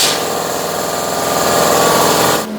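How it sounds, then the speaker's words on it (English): An angle grinder cleans up a metal trivet cut on an Arcdroid plasma cutter, a loud, steady abrasive whine and rasp that holds nearly unbroken for over two seconds before cutting off abruptly near the end. "I'm going to hit it with a grinder, and that's going to be good enough."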